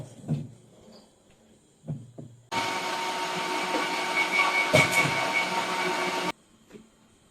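An electric wet grinder grinds soaked urad dal, a loud, steady motor whir that starts abruptly, runs for about four seconds and cuts off, with faint household sounds before and after.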